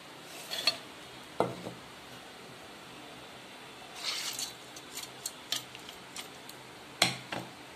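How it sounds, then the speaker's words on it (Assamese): Soaked mustard seeds, green chillies and vinegar poured into a mixer jar for pickle, heard as scattered faint clinks, rattles and soft clatters spread across a quiet kitchen with no talking. "এতিয়া মই গোটেইখিনি বস্তু এই মিক্সি জাৰত ঢালি ল'ম"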